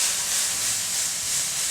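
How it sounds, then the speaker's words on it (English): Mushrooms sizzle steadily in a hot pan, a dense, even hiss with no break and no talking. "the sound of sizzling mushrooms is called the applause because it's cooking the water out of the mushrooms"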